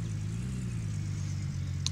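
A truck in Gold Rush: The Game drives at a steady pace, its engine a constant low rumble, close and even throughout with no talking.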